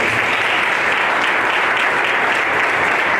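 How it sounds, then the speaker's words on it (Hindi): A church congregation at a youth ministry session gives loud, sustained applause for the pastor, a dense continuous wash of many hands clapping at once, steady and close with no pauses. "प्रभु के दास के लिए जोर से ताली बजाइए।"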